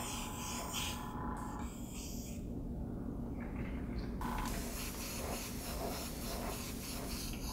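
An airbrush hisses steadily as it fogs paint onto a canvas for a portrait, a soft continuous spray with brief changes in texture, close by and without speech.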